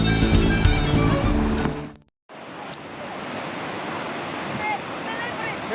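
Water rushes over a small weir on the Łupawa river in Poland, a steady broadband roar heard close after a brief dropout, preceded by loud singing and music.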